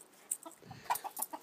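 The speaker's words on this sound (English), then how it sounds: "Those nice chickens." Chickens cluck softly nearby, a few short, scattered clucks and murmurs at low volume.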